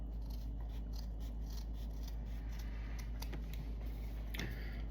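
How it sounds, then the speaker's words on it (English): Scissors snipping across a square cotton pad, a run of light rapid clicks and cuts close by over steady low background hum, no talking. "take my square cotton pad. I do about maybe 3/4 of an inch to an inch. Just cut it straight across"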